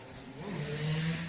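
Motorcycle engines rev and rise in pitch as they draw near, loud and close, with no talking.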